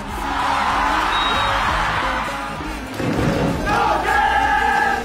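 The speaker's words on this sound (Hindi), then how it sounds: "मैदान तालियों और नारों से गूंज उठता है" A large crowd at a football match roars and cheers continuously, loud and close, with whistles and shouts and chants rising near the end.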